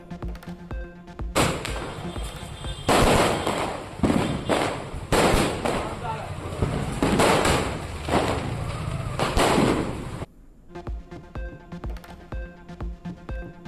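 Rapid bursts of Diwali firecrackers crackle and pop in dense, overlapping volleys, loud and continuous, then thin out into scattered distant bangs, in Tirunelveli.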